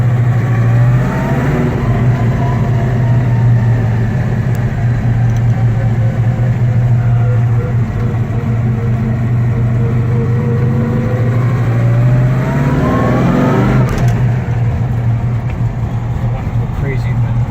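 A 1970 Chevrolet El Camino SS engine runs loud and steady at a low idle, with its pitch climbing in two short revs, one near the beginning and one near the end.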